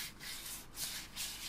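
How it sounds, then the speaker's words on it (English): Fine 320-grit sandpaper rubs over a circular wooden bowl in soft, rhythmic strokes, a quiet papery hiss that rises and falls about three times in close succession with no voices. "I sanded the bowl to 320 grit."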